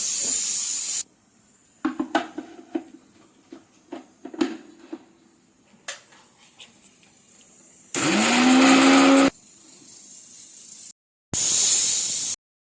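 A kitchen mixer grinds green chillies, coriander and garlic for pani puri water in two loud bursts of whirring, separated by a short pause, after a stretch of small clattering handling sounds.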